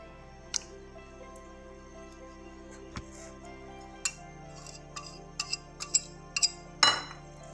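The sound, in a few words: whisking an egg in a bowl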